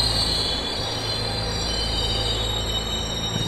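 A passenger train pulling into a station, with steady loud rumble and a long sustained squeal of wheels on rails throughout, no voices.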